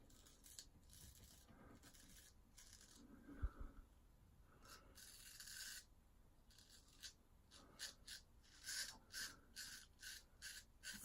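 Faint, close scraping of a Gold Dollar 208 straight razor across lathered skin, with a Tabac shaving stick used for the lather. Short raspy strokes come in uneven bursts, with quieter rhythmic passes toward the end.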